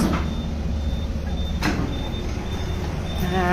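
A tip truck arriving at a muddy flood-damaged property on Pakowhai Road, Hawke's Bay, its heavy diesel engine rumbling close by with brief hissing air-brake bursts and a high beeping tone, steady and fairly loud.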